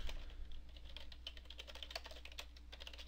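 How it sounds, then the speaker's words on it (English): An email address being typed on a computer keyboard, producing quick, steady, light key clicks close up in a quiet room against a low background hum. "You want to type in their email address here"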